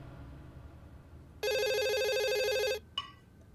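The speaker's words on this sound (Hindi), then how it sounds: "नहीं फिर आ गया फोन।" A telephone bell rings loudly indoors in one continuous burst of about a second and a half, then stops, followed by a brief clipped ring or click, over a quiet room background.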